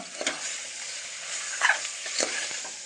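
Washed mutton pieces are stirred into masala frying with ginger paste for a mutton curry: a steady close sizzle broken by three brief scraping stirs of the spoon.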